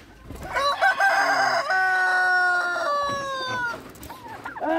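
Roosters crow loudly and close at a hatchery and homestead, several long overlapping cock-a-doodle-doo calls with hens clucking beneath, the crowing held for a few seconds before trailing off.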